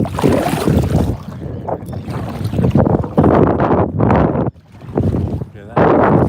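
Paddleboard gliding through shallow water heading upstream, a rushing, splashing wash of water with gusts of wind noise on the microphone, loud and close, rising and falling with brief dips.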